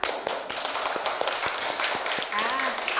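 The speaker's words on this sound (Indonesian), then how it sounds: "Tepuk tangan untuk kelompoknya Hilda." Students in a classroom clap for a group that has presented, brisk rhythmic claps close by with a faint murmur of voices and a brief squeak near the end.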